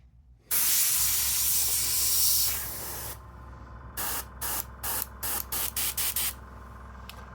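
A Feng Da BD 180 airbrush spraying water-based MRP Aqua paint lets out one long steady hiss. After that come a string of short, evenly spaced bursts as the trigger is pulsed, with no talking.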